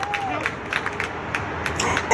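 A crowd at an outdoor street dedication claps at a steady pace, with light crowd murmur and a voice underneath throughout.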